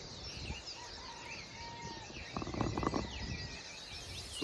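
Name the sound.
wild birds chirping near feeders: finches, cardinals, doves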